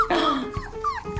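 Several puppies whimper and yip up close at lunchtime, high whiny cries rising and falling in quick overlapping bursts, with a couple of short yelps.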